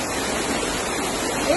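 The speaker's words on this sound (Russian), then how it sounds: "Полностью затоплена машина, домик для котов снесен, машины затопило, сносит потоком воды, все течет с дороги," Floodwater rushes down a street in a loud, continuous broadband roar that sweeps away cars, close and unbroken for the short stretch.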